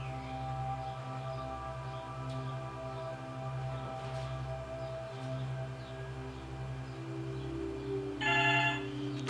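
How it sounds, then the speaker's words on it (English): Landline telephone ringing indoors in a home, a steady electronic ring with a sharper bell-like burst near the end, heard alone with no talking. "And I'm just going to have to pause because that's the phone,"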